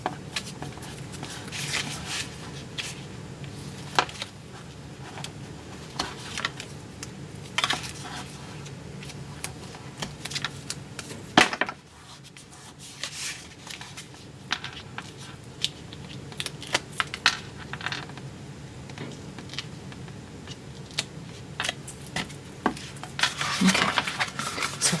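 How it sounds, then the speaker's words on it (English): Clicks, crinkles and scraping from tape being torn and pressed onto a handmade gift box, close and fairly quiet, with one louder rip near the middle and scattered small taps throughout. "So I'm going to put tear and tape here."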